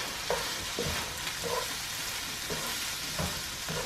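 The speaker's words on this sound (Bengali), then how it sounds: "আরেকটি পাতিলে আমরা তেল দিয়ে মটরশুঁটি দিয়ে দিলাম।" Peas and mixed vegetables fry in oil in a pot over high heat with a constant crackling sizzle, punctuated by several distinct stirring scrapes at uneven intervals.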